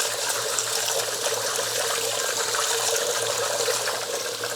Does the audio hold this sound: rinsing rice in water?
yes